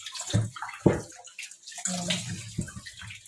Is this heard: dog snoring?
no